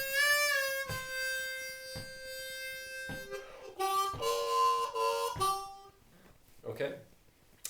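Harmonica playing a slow blues run stepping down from 5 to 1, held reedy notes separated by short breathy pauses, close and moderately loud with no accompaniment.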